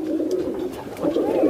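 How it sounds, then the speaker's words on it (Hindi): Kaldume pigeons, flying birds from Sambhal, coo softly and continuously at close range in a brief burst. "ये भाई 5-5 बजे तक उड़ने वाले कबूतर"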